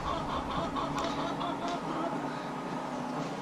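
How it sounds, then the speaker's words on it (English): Chickens clucking and murmuring steadily in a busy, noisy background, with scattered short calls rising above the din. "Chickens are talking."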